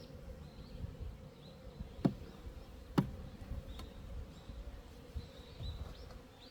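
Bees buzzing thickly around a wooden hive frame during a mite-density check, a steady close drone with two sharp knocks partway through.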